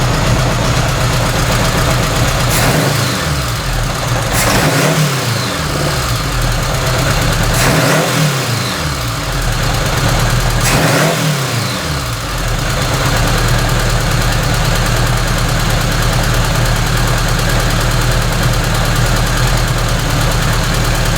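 A car engine, freshly fitted with a single carburetor, runs loud and close after a cold start, with a lopey idle broken by several sharp revs that drop back toward a slightly high idle.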